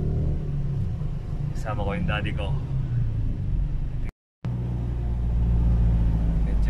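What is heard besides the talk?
car driving in traffic, heard from inside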